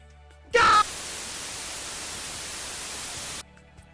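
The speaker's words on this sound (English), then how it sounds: "just put like white noise in there" A burst of loud hiss starts abruptly, holds steady for about three seconds, then cuts off sharply into near silence.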